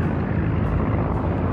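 A torpedo bomber aircraft in the World of Warships naval video game drones with a steady, loud, continuous propeller-engine roar that fills the whole moment without a break.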